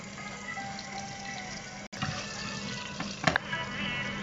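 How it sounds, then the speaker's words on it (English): Green chilies and cumin seeds fry in hot oil in a curry pan for a Sri Lankan-style mutton curry, giving a steady low sizzle. Near the middle it cuts out briefly, then a few louder crackles and clatters follow. "Now she's adding more green chilies into it."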